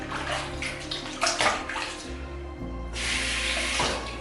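Water runs steadily from a bathroom tap to moisten a shaving brush, a continuous close splashing flow that strengthens toward the end.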